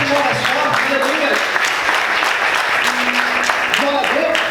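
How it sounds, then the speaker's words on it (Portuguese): A church congregation applauds steadily, a dense sustained clapping that fills the room, with voices singing or calling out over it. "Aplauda o Senhor mais forte"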